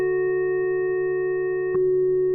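Ambient synth pad played without LFO modulation, a static sustained chord of steady tones with a small click and a slight shift near the end.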